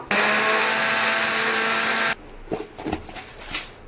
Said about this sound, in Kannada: ಹುರ್ಗಡ್ಲೆ ಕೂರ ಇದನ್ನ ಪೌಡರ್ ಮಾಡ್ಕೋಬೇಕು